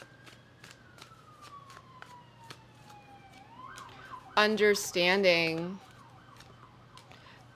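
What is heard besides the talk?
sirens outside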